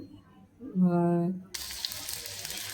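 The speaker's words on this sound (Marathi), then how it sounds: "आता आपण शिजायला ठेवणार आहे. उकळत्या पाण्यामध्ये घालू आता ते." A voice talks briefly, then soaked rice goes into boiling water for chicken biryani, producing a sudden broadband rush of splashing and bubbling that continues to the end.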